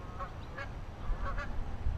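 Geese honk over a flooded pond in Middleton, Wisconsin, several short nasal calls in a loose series, moderately distant over low background rumble.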